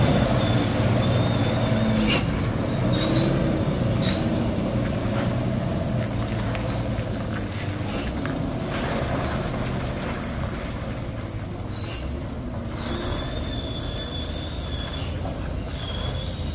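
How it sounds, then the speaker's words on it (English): Trucks loaded with heavy equipment labour up a cracked, damaged road at Batu Jomba, giving a continuous low diesel rumble with brief hisses of air brakes, moderately loud with traffic around. "trucks loaded with heavy equipment are having difficulty passing"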